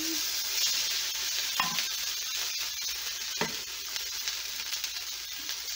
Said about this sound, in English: we're going to start to saute this rice and kind of dry it out